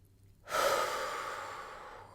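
A deep breath drawn in and let out slowly, close and fairly loud, with a broad airy rush that begins abruptly and fades gradually, alone without any speech.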